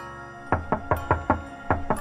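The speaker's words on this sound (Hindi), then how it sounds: "वो विंडो पे नॉक करने लगा और पागलों की तरह हंसता रहा।" Rapid knocking on a window glass, six or seven sharp raps in an uneven burst, close and fairly loud with no talking over it.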